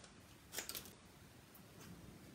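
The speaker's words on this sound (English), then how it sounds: "Just trim it out with scissors." Scissors trimming thick white card, heard as a couple of quick, faint snips close by in an otherwise quiet room.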